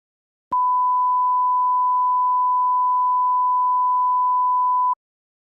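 A single loud, steady pure-tone beep begins abruptly and holds unchanged for about four and a half seconds before cutting off cleanly.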